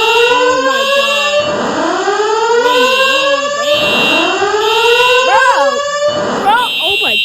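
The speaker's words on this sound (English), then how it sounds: "he didn't pull the fire alarm!" A building fire alarm blares continuously in repeated rising whoops with a steady high tone above, loud and close, while people shout and talk excitedly over it.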